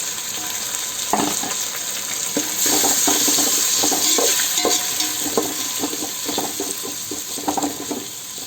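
Tomatoes fry in a pan with onions and ginger-garlic paste for Hyderabad-style egg biryani, a steady close sizzle broken by intermittent scraping and stirring knocks, with no talking.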